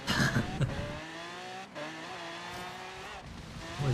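Car in the Forza racing game, a muscle car, driving at speed with steady engine drone and a sudden knock as it goes airborne and strikes a wall, followed by continued engine tone.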